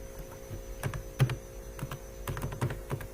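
Keys tapped on a computer keyboard while typing code, in irregular clusters of close, moderately quiet clicks over a steady electrical mains hum, with no talking.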